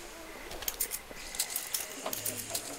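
Keys jangle in The Walking Dead video game as a light, metallic tinkling in several quick bursts over a low background hum.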